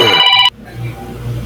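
A telephone rings briefly, a bright, buzzy ringtone burst lasting about half a second before cutting off abruptly into quiet room noise.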